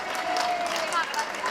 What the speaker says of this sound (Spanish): Y nos pide un fuerte aplauso para ella